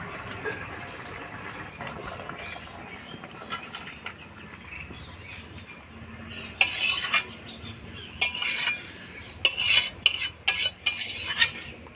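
Ghee-coated shukto, a Bengali mixed-vegetable dish of eight vegetables, stirred in a pan with a metal spoon; quiet sizzling under low clatter, then several bright scraping clanks against the pan in quick bursts toward the end.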